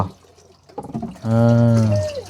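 Water is pumped with splashing and trickling flow, followed by a louder sustained surge with a tonal whine that tails off, close by and without talk.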